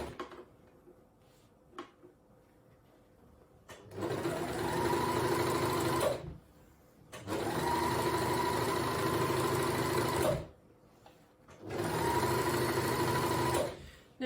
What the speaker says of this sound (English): and then overlock all the way around